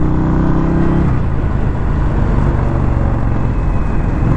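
A 2021 Indian Scout Bobber motorcycle underway, its engine a continuous, close, steady hum and whir with no pauses.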